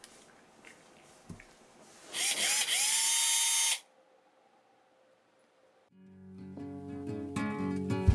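Electric screwdriver unscrewing a REMO Silent Stroke mesh practice pad, a short high whirring burst of under two seconds, then quiet before a rising mechanical rattle and hum near the end.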